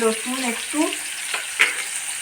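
Chopped tomatoes go into a hot pan for chicken pasta and sizzle softly, a light crackle and hiss with a few stirring scrapes over about two seconds.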